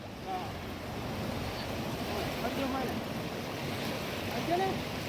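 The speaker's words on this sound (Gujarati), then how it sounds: "જોઈ લો નદીમાં પૂર મિત્રો." A river swollen by monsoon floods during a heavy downpour in Gujarat, heard as a steady, loud, broadband rushing roar that holds through the whole clip, with faint voices surfacing now and then.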